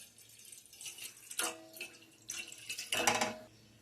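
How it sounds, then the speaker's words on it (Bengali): Water is poured into a saucepan on a gas stove in short, quiet splashing bursts separated by near-silence, the last pour the fullest. "এবার আমি পরিমাণ মতন জল দিয়ে দেব।"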